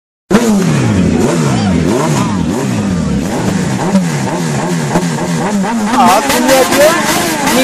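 A new car pulls up with its engine revving hard, the pitch rising and falling in repeated throttle surges that stay loud and close, with a brief sharper rev near the end.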